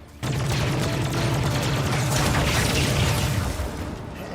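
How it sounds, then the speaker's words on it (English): High-powered sniper-style gun in The Mandalorian episode "The Pirate" firing in a rapid dense volley of loud blasts and booms that sustains for several seconds before tapering, with no voices. "Got a Gatling gun here. Not a Gatling gun, it's like a high-powered sniper."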